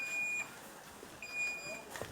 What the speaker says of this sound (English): And we've given you an alarm system that will prompt you that the system is still working.